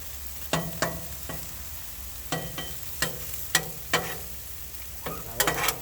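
Beef and corn sizzle on a Blackstone griddle turned down low, under a steady soft frying hiss punctuated by sharp spatula clicks and scrapes at irregular intervals, close up and without speech.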